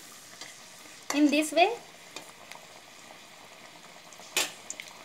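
Sabudana pakodi frying in oil, a soft steady sizzle with a couple of louder bursts of stirring or flipping, while a voice speaks briefly.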